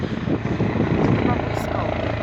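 Helicopter flying overhead near an airport, a loud, steady, broadband rotor and engine roar filling the whole stretch, with people talking underneath.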